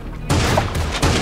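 Shotgun blasts in the video game Creative Destruction, a couple of sharp, loud reports about three quarters of a second apart, each with a short booming tail, close and without talk.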